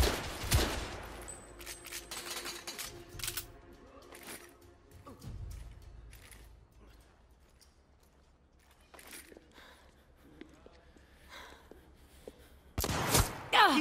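Gunfire in The Order: 1886 comes as scattered sharp shots and bursts with thuds and impacts over a quiet stretch, then loud firing returns at the end.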